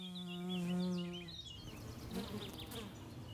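Forager honeybees buzz steadily among blossoms, a close droning hum that shifts in pitch as they move, then fades into a softer, busier background buzz.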